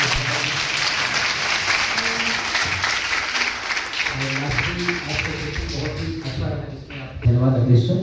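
An audience of students at an entrepreneurship workshop claps loudly and steadily, with voices talking over the clapping as it continues.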